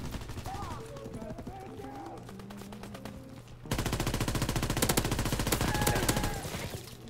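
Rapid automatic gunfire from the game Call of Duty WW2, with a steady burst near the start and a louder, denser stream of shots in the second half over game music.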